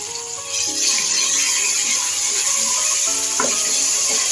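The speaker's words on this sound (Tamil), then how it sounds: "இதுக்கு கொஞ்சம் இஞ்சி பூண்டு பேஸ்ட் போட்டுக்கலாம். இதை நல்லா வதக்கிக்கலாம்." Ginger garlic paste sautéing with onion and tomato for bottle gourd kurma, giving a loud, even sizzle that swells after a moment, with one brief stir or scrape partway through.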